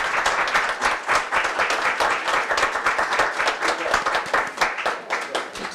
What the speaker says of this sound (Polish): Wielkie brawa, gratulujemy.